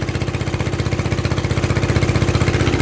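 An Onan 3.0 DJA diesel generator runs with no muffler fitted, a loud, rapid, evenly pulsing exhaust chug that stays close and steady throughout, gradually swelling slightly in intensity.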